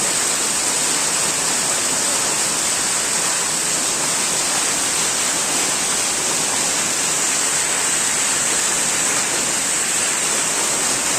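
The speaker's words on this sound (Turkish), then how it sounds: "Şifalı su oğlum bak tavandan çıkıyor bak." Water flows and drips from the ceiling inside a cave, a loud, steady, unbroken rushing wash that fills the space, with no talking.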